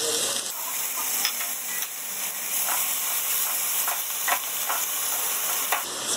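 Tomatoes and onion sizzling in a frying pan, a steady close hiss with occasional stirring scrapes and crackles, continuous and moderately loud without talk.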